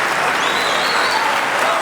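Steady, loud applause from a snooker crowd after a long pot at the UK Masters, a dense even wash of clapping with no pauses throughout.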